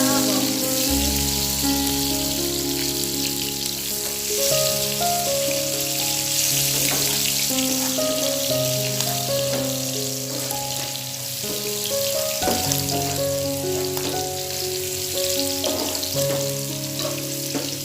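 Sliced shallots and garlic sizzle and crackle steadily in hot oil throughout, a loud, continuous frying hiss with occasional stirring and scraping sounds over it.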